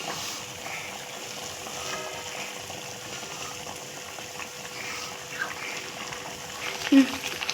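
Small pieces of sweet potato adhirasam dough fry in heated oil on a stove kept at low flame, giving a steady bubbling hiss throughout with a brief louder bump near the end.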